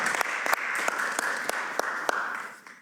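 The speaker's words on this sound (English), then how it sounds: "Yeah, you can keep applauding." Applause from a small theater audience, a sparse group clapping with distinct individual claps that fade out toward the end.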